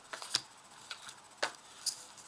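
Tarot cards handled and laid out: a few quiet, crisp card snaps and slides spaced irregularly, faint and close, with no speech.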